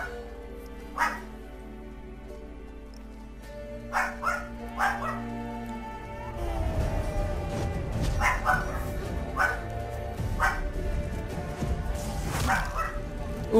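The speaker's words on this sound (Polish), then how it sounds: "ten pies się kurde szczeka" A dog in The Witcher 3: Wild Hunt barks repeatedly in short bursts, loud and close. The barks come over game music and combat noise, and someone talks now and then.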